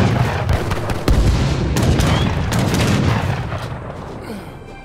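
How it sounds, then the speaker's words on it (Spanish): A burst of heavy booms and crackling blasts from an explosion in Age of Empires III Definitive Edition, loud and close, with rumbling impacts that fade toward the end. "una explosión ha abierto otro pasaje"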